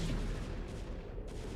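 A Protoss photon cannon fires in StarCraft: Brood War Remastered, a dense burst of booming, crackling shots stacked over busy game noise, loud and continuous through the short moment.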